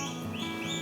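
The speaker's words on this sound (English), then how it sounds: "You can hear our baby turkeys chirping in the background." Newly hatched baby turkeys peep faintly in the background, a soft continuous chirping.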